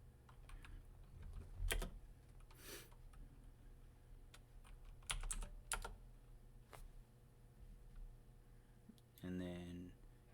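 Keystrokes on a computer keyboard as the ifconfig command is typed during an ethical hacking lab exercise: scattered, fairly close clicks in short uneven bursts over a faint steady hum.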